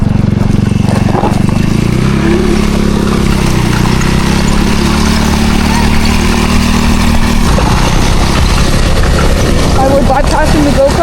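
A motorcycle engine idles and revs during a group ride-out, with a steady low rumble that swells and dips over the whole stretch while people talk nearby.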